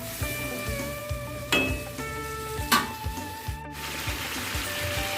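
Potatoes, tomatoes and spices sautéed in a pan for Bengali aloo dum with kasuri methi, giving a low sizzle broken by a few sharp scrapes and clatters of a spoon against the pan, with a faint tonal hum running underneath.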